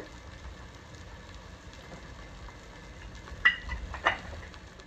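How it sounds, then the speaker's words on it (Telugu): Onions frying with ginger garlic paste in a pan for a foxtail millet egg biryani, giving a soft steady sizzle with two brief louder scrapes of stirring near the end and no talk. "ఆనియన్స్ కొంచెం ఫ్రై అయిన తర్వాత ఇందులోకి మనం 1 స్పూన్ అల్లం వెల్లుల్లి పేస్ట్ వేసుకోవాలి"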